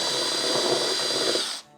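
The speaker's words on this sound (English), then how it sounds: "Are you using power tools again?" A power tool drills holes in a battery box for fishing, boating and camping, a loud steady high whine held close for over a second before cutting off abruptly.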